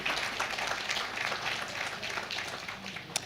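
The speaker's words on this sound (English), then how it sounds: "I'd like to also welcome Mr. James Ndlebe. We can give him a round of applause." Steady, dense applause from an audience at a BELA Act colloquium, filling the room evenly and continuing throughout with no voices over it.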